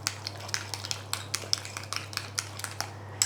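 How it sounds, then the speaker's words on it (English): A metal spoon stirs and loosens a couple of tablespoons of apricot jam in a small dish for an apple pie, giving quiet irregular clinks and scrapes at a close distance over a steady low hum. "Take a couple of tablespoons of apricot jam, and I just loosen it up a little bit with a spoon"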